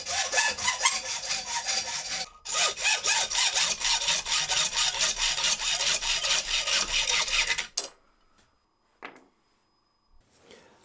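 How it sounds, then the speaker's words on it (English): Brass rod being cut into shorter pieces with a hand saw, fast rhythmic rasping strokes for about eight seconds, then a pause and a brief final scrape. "So I'm just going to cut down some shorter bits of this rod."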